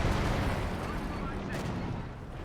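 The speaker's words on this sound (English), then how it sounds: "A bit of major artillery on the garrison" Artillery pounds a garrison in a World War II strategy game, a dense, rumbling low roar of distant booms rolling together without clear gaps, moderately loud and steady before easing slightly near the end.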